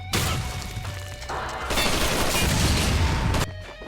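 Dense, loud gunfire from the video game Max Payne 2 with a gun kata combat mod, with rapid overlapping shots and blasts in a continuous barrage that drops out briefly near the end.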